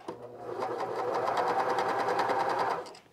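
Cover stitch sewing machine running steadily as it stitches fabric, a close, even mechanical whir held for a few seconds before slowing to a stop, with no voices.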